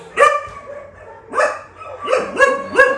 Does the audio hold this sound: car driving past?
no